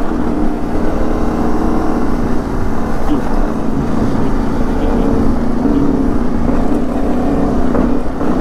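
CFMoto 450MT motorcycle engine revs loud and close on a road ride near Lobo, Batangas, a dense, continuous roar with wind rush and little variation throughout.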